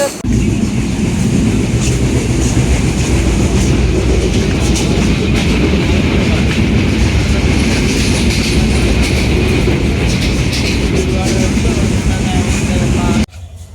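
A passenger train on the Dinajpur–Dhaka line in Bangladesh rolls along the tracks with a loud, continuous rumble and rhythmic wheel clatter from inside the carriage, cutting off abruptly at the end.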